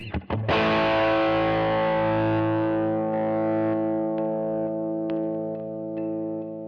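A strummed electric guitar chord through both pickups together, fitted with Seymour Duncan Everything Axe pickups, rings out with gritty distortion and a chorus-like shimmer, sustaining and slowly fading, with a few faint string clicks near the end.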